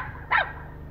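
A dog barks once at two cats, a single sharp bark near the start over a low steady hum, with no other voices.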